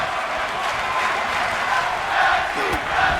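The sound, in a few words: crowd chanting at wrestling match in video game WWE 2K24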